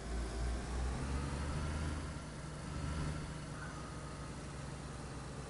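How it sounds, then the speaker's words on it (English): A car engine running steadily in DayZ, a low, even idling rumble heard close and alone, with slight swells in level and no speech. "I'm sorry, I can't hear you over the car engine"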